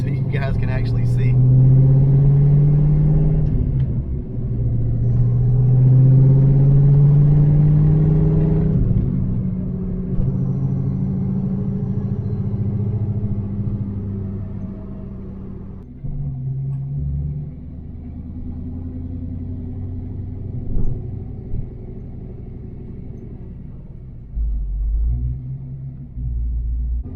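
A Ford Foxbody with an aftermarket cam idles and creeps along in a deep, loping rumble. The engine swells in a couple of low revs and then settles into a choppy idle while someone talks over it close by.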